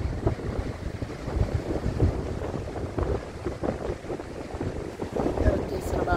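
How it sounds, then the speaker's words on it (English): Strong wind on a beach buffets the microphone in uneven gusts, a rough low rumble with broad rushing noise that rises and falls throughout. "Windy day. It's a pretty day, but windy."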